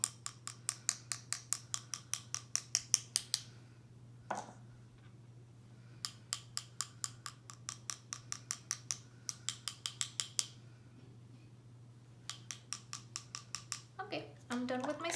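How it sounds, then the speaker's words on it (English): Paintbrush loaded with watercolor tapped against a pencil to splatter paint, rapid bursts of sharp wooden clicks in several runs with short pauses, close and clear over a low hum. "Get a little bit of water and just tap on your pencil."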